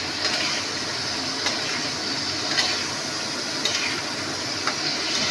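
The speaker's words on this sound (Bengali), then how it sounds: "এটা ভেজে নিই," Food fries in a pan with turmeric and salt, giving a steady, moderate sizzle with faint intermittent clicks and stirring sounds and no talk.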